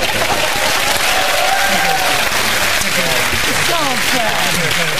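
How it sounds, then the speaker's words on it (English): Studio audience on a comedy panel show clapping, a continuous loud patter of many hands lasting about five seconds, with someone talking over it throughout. "you've heard claps like that before, surely"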